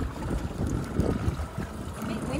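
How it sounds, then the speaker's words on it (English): Gusty wind buffets the microphone with a steady roar and uneven bursts, broken up by lapping water, at Tyrell Bay. "It's a bit windy."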